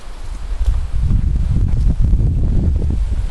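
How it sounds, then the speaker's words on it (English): Wind blowing at a lakeside campsite in Kejimkujik National Park, a steady low rumbling gust buffeting the microphone throughout with faint rustling on top. "there's a bit of a wind"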